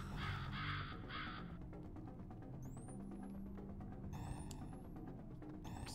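Crows cawing as a quick-fire attack in the Shalnor Legends video game, three rapid harsh caws up front, then whooshing streaks and another burst of caws over game background noise.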